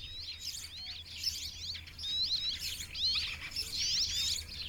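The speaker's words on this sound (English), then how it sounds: "inhabited by a number of birds, including tits and the shy rock sparrow" Small birds, including tits and rock sparrows, chirping and twittering in repeated high, quick bursts, moderately close, over a low steady outdoor rumble in Italian wilderness.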